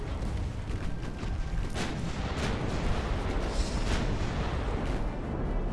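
Naval gunfire from 1890-era warships in Ultimate Admiral: Dreadnoughts rumbles as a dense, continuous barrage of distant booms and rolling thunder-like blasts.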